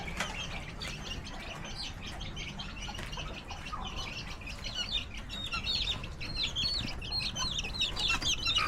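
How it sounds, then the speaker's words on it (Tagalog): Chickens, including many chicks, cluck and chirp continuously in a busy provincial farmyard at feeding time, close and fairly loud, with many birds calling over a steady outdoor rumble. "si Mother ay magpapakain ng manok"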